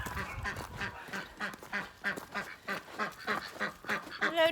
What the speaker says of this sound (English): Loudmouth duckies